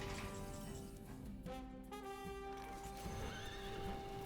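In a Hearthstone-style card game, a horse whinnies in a clear, rising and falling call over a steady tone and a busy game soundscape, with light hoof clip-clops alongside.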